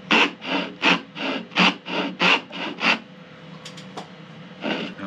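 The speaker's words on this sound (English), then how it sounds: "I'm taking my dovetail saw and I'm cutting inside on the waist side of the line straight down to the mark we made" A dovetail saw cuts wood for hand-cut box joints in a steady rhythm of about nine back-and-forth rasping strokes. A few light taps follow, then one more stroke. Close and clear, with no voices.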